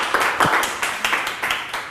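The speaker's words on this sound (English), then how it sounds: "Jessica, round of applause, everybody" Brief, close clapping at a small workshop gathering greets speaker Jessica Ivins, a handful of distinct, uneven claps in quick succession rather than a full roar, heard alone without voices.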